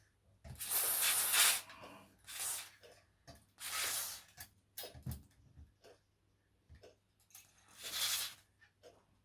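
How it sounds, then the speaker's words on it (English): Silicone-based WD-40 lubricant sprays onto a part of a Coles mobile crane in several close, loud hissing bursts of one to two seconds with short pauses between them, alongside faint clicks and handling noises. "Let's just get some WD-40 in there. Silicon based WD-40"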